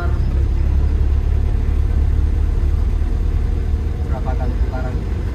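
A 1994 Isuzu Panther engine pulling on a test drive, a loud low rumble that holds steady as the vehicle accelerates, with voices talking over it.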